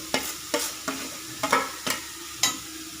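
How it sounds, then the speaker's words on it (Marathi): Carrots and beetroot fry in hot ghee in a kadhai for carrot halwa, with about six distinct scraping stirs of a spoon over a soft background sizzle, close and rhythmic. "तूप गरम झालेलं आहे मी आता एक गाजर घालून घेत आहे कढईमध्ये तर गाजर टाकलेलं आहे आणि बीट टाकलेलं आहे"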